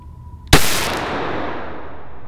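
A single loud Glock pistol shot fired at a shooting range, a sharp close crack that rings out into a long decaying echo.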